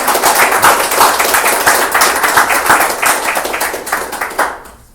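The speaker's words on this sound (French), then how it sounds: "applaudissez-le s'il vous plaît" An audience applauds at a Conservative Party candidate's political gathering. Dense, loud, steady clapping from many hands goes on for several seconds, then fades away at the end.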